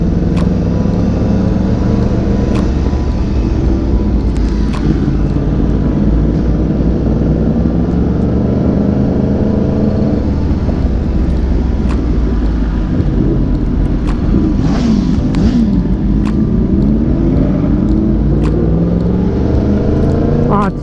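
A Toyota Supra engine drones steadily with road and wind noise, rising and falling in pitch as the car drives past nearby, with people talking over it.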